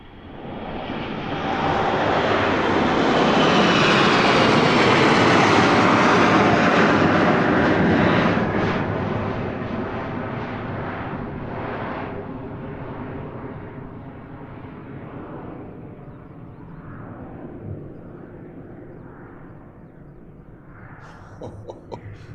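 A fixed-wing airplane departs London Luton Airport, its engine roar swelling loud and near over several seconds, then slowly fading as it climbs away into a long distant rumble.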